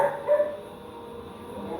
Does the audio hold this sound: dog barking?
yes